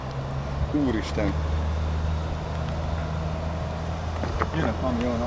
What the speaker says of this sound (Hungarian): Jön a kamion, hallod?